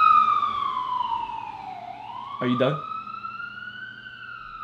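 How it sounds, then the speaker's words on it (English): An ambulance siren passes outside, its wailing tone sweeping down and back up loudly across the whole stretch while a person briefly speaks over it. "I hope that I could talk over this fucking ambulance"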